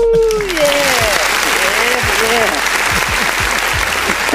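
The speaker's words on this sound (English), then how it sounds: "Let's give ourselves a round of applause." Loud applause and cheering fill the space, steady dense clapping with voices calling out over it.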